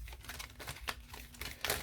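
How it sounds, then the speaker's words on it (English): Tarot cards being shuffled during a card reading, a quick run of close, crisp riffling and soft snapping bursts with no talking. "Let me shuffle."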